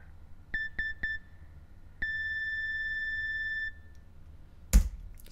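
An answering machine gives a short series of electronic beeps: three quick tones, then a long steady beep, clean and alone, followed by a brief click.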